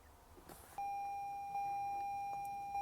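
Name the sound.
car seat belt warning beeping, Toyota Highlander Hybrid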